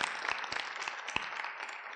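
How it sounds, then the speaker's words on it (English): Audience applause at a women's leadership event honouring a CEO, a brief burst of steady, moderately loud clapping from a crowd with a few sharper individual claps. "Definitely need a round of applause for all the accomplishments you have done."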